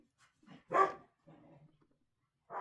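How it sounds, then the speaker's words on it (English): A couple of dogs bark in a short burst indoors, one loud close bark followed by a softer bark and a third starting at the end, with quiet gaps between. "There are my vicious dogs."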